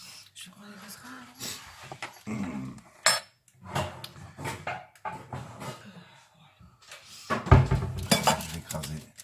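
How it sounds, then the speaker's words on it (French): Saucepans picked up in a kitchen, giving metallic clattering and clinking of pots and cutlery in bursts, loudest near the end, under steady conversation. "Je prends les casseroles."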